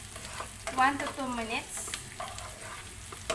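Chopped garlic and green chili sauté and sizzle softly in a pan, a low steady frying hiss with light stirring while a person talks briefly over it.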